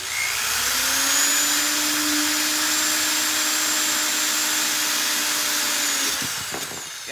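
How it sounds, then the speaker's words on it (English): An electric drill whirs steadily at close range for several seconds, drilling cast drawer pulls, with a constant high-pitched motor whine, then winds down. "if you don't like the sound of a drill,"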